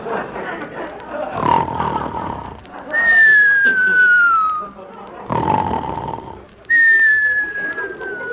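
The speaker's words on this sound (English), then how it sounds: "Oh, boy, whistles tonight." Two long descending train whistles, each a clear falling tone lasting about two seconds, separated by murmuring noise and a lower rumble.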